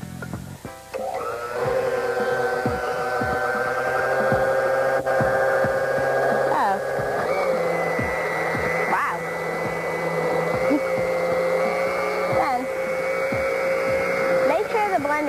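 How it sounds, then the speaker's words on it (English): A kitchen blender whirs steadily while mixing a vanilla pie filling, its motor pitch shifting a few times as the speed changes; loud, continuous and close, with no talk over it. "Put the cap on the blender and make sure it's shut tight so nothing splatters out of it."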